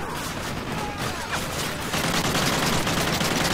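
Modern Warfare 3 battle gunfire crackles as dense, distant background volleys, a constant busy rattle that grows slightly louder partway through.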